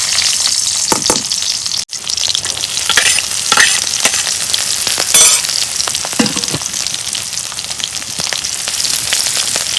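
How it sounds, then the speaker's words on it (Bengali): Onions sizzle in hot mustard oil in a wok for a dried fish curry, a steady loud frying hiss broken by stirring scrapes and spatters throughout. "তেল গরম হয়েছে, পেঁয়াজ দিয়ে দিব।"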